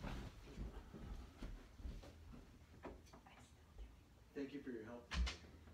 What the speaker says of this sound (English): I need to close the door again.